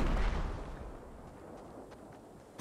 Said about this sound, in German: Nee, eine Granate.